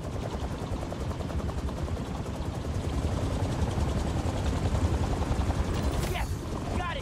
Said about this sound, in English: That Mr. Osborne's helicopter.